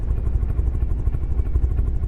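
A craft's engine and exhaust in From the Depths drone steadily, a loud low rumble with a fast, regular pulsing throb that holds constant throughout.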